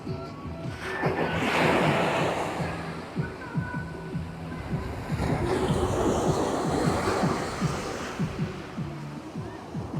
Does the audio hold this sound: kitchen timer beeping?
no